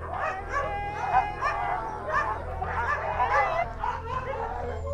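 Sled dog huskies howl and yelp together in a steady, overlapping chorus of high whines and barks, close and loud throughout, with faint human sounds mixed in.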